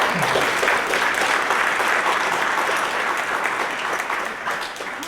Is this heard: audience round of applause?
yes